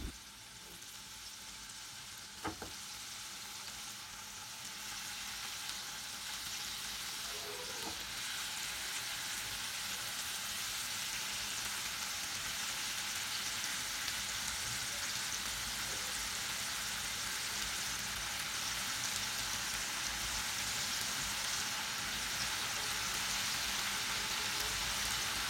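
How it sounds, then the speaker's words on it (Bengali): Marinated tandoori chicken fries in hot oil, producing a steady, even hiss that holds for a long stretch with almost no other noise. "তেল গরম হয়ে আসলে আমাদের ম্যারিনেশন করে রাখা চিকেনগুলো ফ্রাই হতে দিয়ে দেব।"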